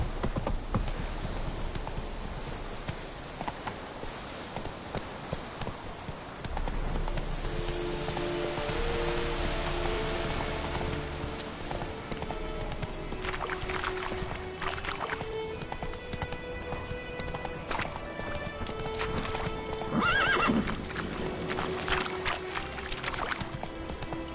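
Roach the horse galloping in The Witcher video game, with rapid rhythmic hoofbeats continuing throughout over a steady rain-like background wash, close and moderately loud, with in-game music tones threaded through.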